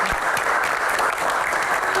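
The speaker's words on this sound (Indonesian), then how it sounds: "Tepuk tangan juga untuk rekan-rekan mahasiswa yang hadir di studio kali ini." A studio audience of university students claps steadily during an Indonesian Q&A talk show, a broad, even burst of applause filling the whole moment with faint cheering beneath.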